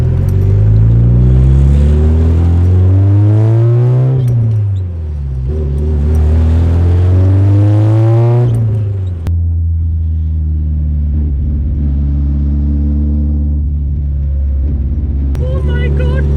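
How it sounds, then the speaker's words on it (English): A Nissan S13 with an SR20DET turbo engine accelerates hard, its close, loud engine note climbing in pitch twice as it pulls through the gears, then settles into a steady droning cruise with rumbling road and wind noise. "I am driving my car!"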